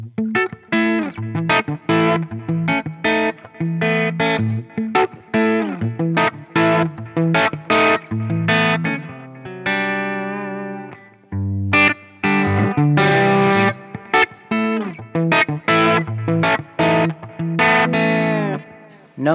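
Electric guitar through a tilt EQ boost pedal into a Peavey Classic 50 amp: loud, driven riffs of picked notes and chords in quick rhythmic bursts, a brief pause midway, then more crunchy playing, close and without talk.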